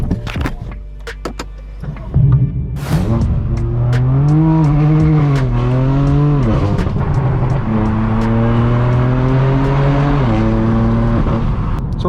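A straight-piped BMW M4 fires up with a sharp bark, then its loud exhaust drones and climbs through several gear pulls while driving, heard close from the cabin with a few clicks and thumps at the start.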